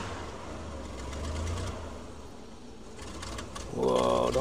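The engine of a vintage Willys Jeep strains at about 5,000 RPM while climbing the rocky Hells Gate off-road trail, a steady loud droning roar that swells sharply near the end.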